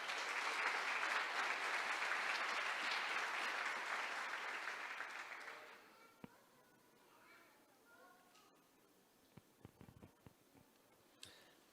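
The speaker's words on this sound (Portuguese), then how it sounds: "Você pode aplaudir a palavra de Deus?" A church congregation claps loudly in sustained dense applause for about five seconds, then it fades to a quiet room with a few scattered taps and small noises.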